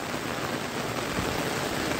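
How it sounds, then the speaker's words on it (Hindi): Heavy morning rain pours down outside as a dense, steady, unbroken hiss with no voices over it. "भाई तकड़ी बारिश है, देख लो पूरा नज़ारा, ये लो भयंकर बारिश है भाई"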